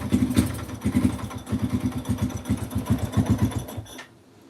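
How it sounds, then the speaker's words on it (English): A 2005-2009 Yamaha TTR-230 dirt bike engine runs with the choke on, a rapid, loud single-cylinder chug near the microphone that stumbles and rises unevenly before cutting off abruptly at the end. "So it only wants to run with the choke on."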